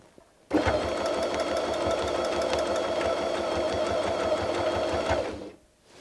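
A sewing machine runs a straight stitch while appliquéing a fabric butterfly onto a quilt, a steady rapid mechanical whir and clatter for about five seconds, starting and stopping abruptly, close and loud.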